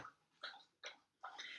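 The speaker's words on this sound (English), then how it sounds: "That slurping sound in the background, that's my dog, by the way." A dog slurps somewhere in the background, three short wet bursts spaced about evenly, each fading quickly, fairly faint with no talking over them.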